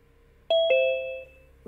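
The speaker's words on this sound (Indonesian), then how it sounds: "Kalau di saya terdengar suara lonceng" A Zoom participant-join notification chime sounds as two quick bell-like ding tones, the second ringing out and fading over about half a second, clear and close in otherwise quiet audio.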